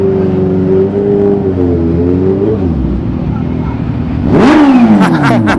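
Supercharged Kawasaki H2 Carbon motorcycle engine, freshly serviced with new oil, idling with a wavering hum that dips, then a loud close rev swells sharply upward with whining and cracking bursts, speech mixed in.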